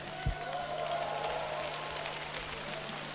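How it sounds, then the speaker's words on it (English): Crowd applause at a summer music festival rises as a soft, distant wash of clapping, faint and continuous for a few seconds. "So give yourselves a round of applause, please."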